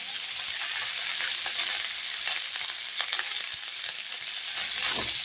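Mixed vegetables are stirred and fried in oil with turmeric and salt in a pan. A continuous close sizzle runs throughout, with scattered scraping taps of the spoon and no talking.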